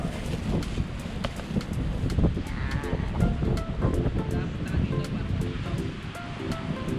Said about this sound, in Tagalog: Ayun ang dagat.